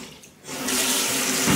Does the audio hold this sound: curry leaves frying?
no